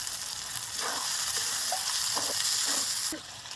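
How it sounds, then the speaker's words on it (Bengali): Rice coated in spice paste frying in a pan for yellow pulao, a steady close sizzle with a few soft scraping stirs, fading slightly at the end. "চালটা আমি মশলার মধ্যে সুন্দর করে দিয়ে ভালো করে কষিয়ে নেব মশলার সঙ্গে।"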